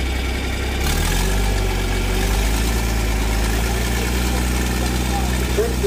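A heavy old 1966 Dodge 40/20 tractor engine with a new starter idles with a steady, low, rhythmic chug, loud and close throughout.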